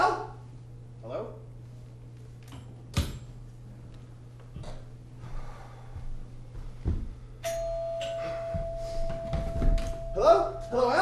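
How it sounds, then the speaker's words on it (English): Doorbell in an old house sounding a sustained electric ring that starts partway through and holds steady, over a low hum, with scattered knocks and a voice calling out nearby. "Mortimer, that's the doorbell, not the telephone"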